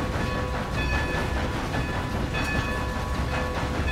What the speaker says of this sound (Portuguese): Vamos dar uma volta inteira aí de trem